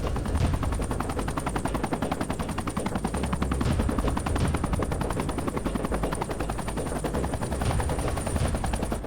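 Bell 206 Jet Ranger helicopter in flight, its rotor chop a fast steady pulsing thud with a high turbine whine on top, loud and close throughout with no talking.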